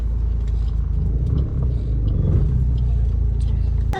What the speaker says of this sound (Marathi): आता जस्ट गाडी पार्किंग करतो